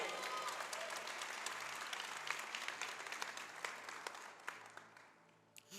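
A church congregation applauds during a sermon, a sustained wash of clapping at moderate distance that thins into scattered individual claps toward the end.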